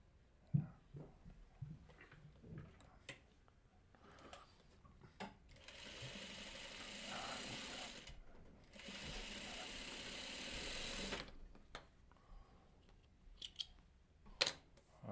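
A sewing machine stitches quilt block pieces in short bursts and one longer steady run, quiet and close, with small handling clicks between stitching.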